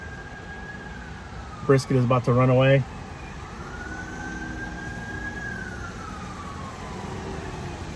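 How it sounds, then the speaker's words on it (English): Emergency vehicle sirens wail faintly in the distance on a rainy evening, a slow rising and falling tone drifting by behind steady rain, briefly covered by a loud spoken voice nearby. "We got sirens, more rain."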